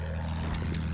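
Enemy plane passing overhead in a multiplayer shooter match, a steady droning propeller engine hum with a slight swell toward the end, no talking.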